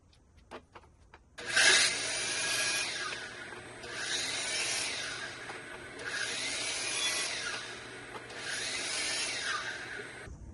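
A wooden sanding block having its corners chamfered by hand, with a few light taps first and then four long, even, close rasping strokes in a slow regular rhythm.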